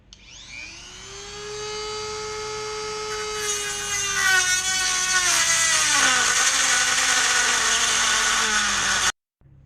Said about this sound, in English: I got a nice new blade on the Dremel, and we'll go ahead and cut these babies off